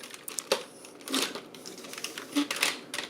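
Plastic parts of a Transformers Cybertron Leader class Optimus Prime toy being unfolded and folded, giving several close, light clicks and rattling snaps scattered irregularly over a quiet background.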